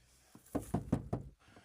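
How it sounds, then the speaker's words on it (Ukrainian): Knuckles rap on the metal door of a Renault Modus, four or five close, hollow knocks in quick succession, heard up close and fairly quiet. "Двері металеві, ну бо це безпека, вони мусять бути металеві."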